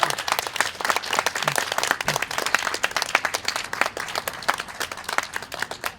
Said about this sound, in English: Please another round of applause for Jeff.